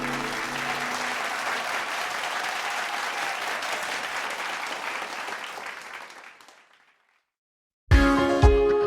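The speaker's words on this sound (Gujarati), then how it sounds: "આપણે તેમનું જોરદાર તાળીઓથી સ્વાગત કરીએ" Loud, sustained applause from a school annual-function audience welcoming young children onto the stage, a dense wash of clapping that fades out around six seconds, followed by silence and then music starting.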